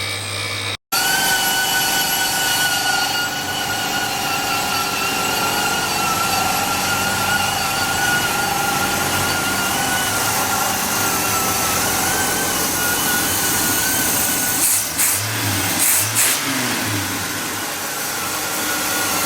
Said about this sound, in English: I can't have the air compressor and a grinder running and the stereo blasting all at the same time when I'm trying to talk.